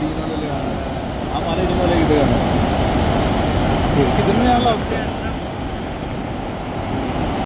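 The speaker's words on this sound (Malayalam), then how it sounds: "നേരത്തെ ഉരുൾപൊട്ടിയ ഭാഗത്തു കൂടിയാണ് വെള്ളം ഒഴുകി വരുന്നത്" Water rushing down through an earlier landslide area at Chooralmala, Kerala, a steady, loud, broadband roar of flowing water mixed with wind noise, continuous from start to end.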